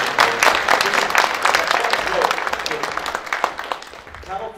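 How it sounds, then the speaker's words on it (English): An audience claps in thanks for insurance enrollment helpers at a Covered California event, a patchy round of clapping with a voice talking over it throughout. "Can we give a round of applause for these folks who are helping people enroll?"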